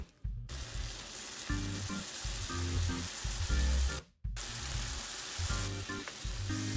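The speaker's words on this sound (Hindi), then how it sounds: "अब इसमें डालेंगे एक बड़ा साइज का टमाटर दरदरा पिसा हुआ" A large coarsely ground tomato fries in spiced masala for a dhaba-style egg curry, giving a steady close sizzle with stirring scrapes and two brief pauses, with no voices.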